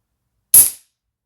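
A single loud, sharp rifle shot fired while zeroing a OneLeaf Mars MT1000 thermal scope, a sudden crack with a short fading tail, alone against silence.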